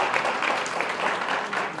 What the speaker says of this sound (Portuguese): Mais uma salva de palmas.